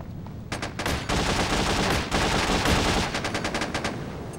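Rapid automatic gunfire from the video game SOCOM 2, loud and continuous, with dense bursts and overlapping shots filling the whole stretch and no talk.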